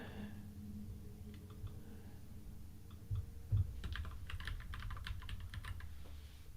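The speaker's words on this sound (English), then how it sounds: "you didn't come here to see me type in alt tags" Steady clatter of keystrokes on a computer keyboard as alt tags are typed in, close and fairly quiet, with irregular bursts of quick presses and no talking.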